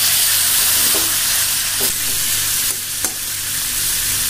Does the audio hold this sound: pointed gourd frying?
yes